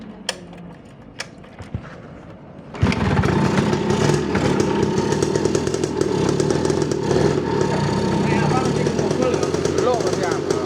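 A classic motorcycle engine is started and runs with a busy, rattling mechanical idle close by. Voices talk in the background before and during the running.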